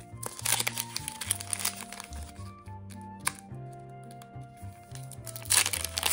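Crinkling and tearing of a foil Pokémon TCG Stellar Crown booster pack wrapper, close-up and fairly quiet, with rustling bursts at the start and again near the end over soft background music.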